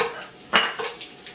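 Cumin and ajwain seeds frying in hot oil are stirred once, giving a short, close scrape and sizzle in a brief burst, followed by a softer crackle that fades.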